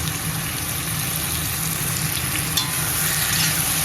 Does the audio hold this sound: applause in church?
no